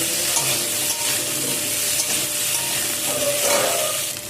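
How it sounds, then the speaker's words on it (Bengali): Young jackfruit frying in a pan gives off a steady bright sizzle while a utensil stirs and scrapes through the pieces, close and continuous with no voices. "কাঁঠাল এঁচড়টাকেও আমি ভালো করে নেড়ে নিচ্ছি এখানে।"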